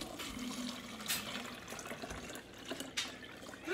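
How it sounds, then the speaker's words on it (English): Water splashes and gurgles as it is poured into a plastic bottle to make a jellyfish sensory bottle, an uneven trickling fill with a few louder splashes, close and without speech. "you're going to fill up the water bottle and make the ocean for the jellyfish"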